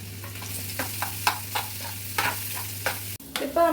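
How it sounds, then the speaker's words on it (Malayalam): Chopped onion frying in a pan for a Goan seafood dish, a low steady sizzle with several sharp scraping stirs of a utensil, close and fairly quiet, ending in a brief clatter. "ഇനി നമുക്ക് ഇതിനകത്ത് നമ്മുടെ അരിഞ്ഞ ഉള്ളി ഇതിനകത്തോട്ടിടാം."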